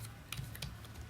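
Quick keystrokes on a computer keyboard, a few sharp clicks over a steady low hum, close and fairly quiet.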